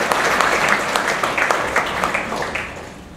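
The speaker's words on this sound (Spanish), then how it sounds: "les pido un fuerte aplauso." Applause at a corporate event welcoming the head table, a steady dense patter of many hands clapping with a few sharper claps standing out, held at moderate level throughout.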